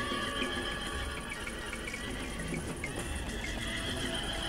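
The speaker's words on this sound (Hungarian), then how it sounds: "A lovak!" Horses whinnying and neighing amid battlefield commotion in a 1993 war film, several shrill calls over a dense, steady background with faint hoof clatter.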